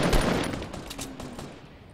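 Fortnite gunfire, a quick cluster of sharp shots and bursts crackling over a fading rumble, brief and moderately loud with no talking.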